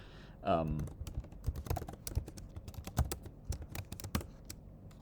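Fingers type on a computer keyboard in a quick, irregular patter of close clicks, after a brief vocal sound at the start.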